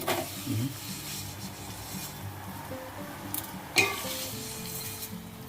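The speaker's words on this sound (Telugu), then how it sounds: "చూడండి నూనెలో ఎంత బాగా ఉడికాయో ఇలా అంత గట్టిగా ఇలా ఫ్రై కావాలి అనమాట" Herbs fry in oil in a pan to make hair oil, giving a faint, steady sizzle with one brief metallic clink partway through.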